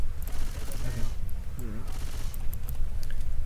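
Rapid gunfire from a Left 4 Dead 2 zombie shooter game, sustained bursts of shots running throughout under a busy game soundscape with a voice talking over it.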